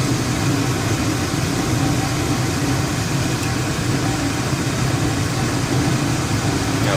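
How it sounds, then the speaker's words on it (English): Blowers of a Carrier Weathermaker 8000 gas furnace running after start-up, a loud, steady, broadband whoosh and hum that holds evenly throughout with no speech. "Now the blowers come back on."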